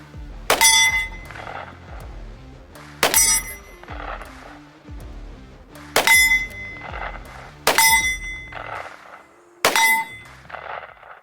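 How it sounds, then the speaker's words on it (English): Five sharp pistol shots ring out at a range, each followed by a distant ringing clang of a steel target at 100 yards, spaced a couple of seconds apart with no talking. "Let's take a couple shots."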